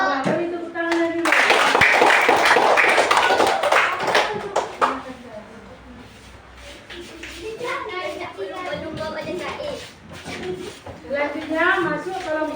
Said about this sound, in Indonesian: Sudah, beri tepuk tangan dulu